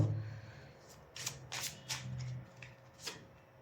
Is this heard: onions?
no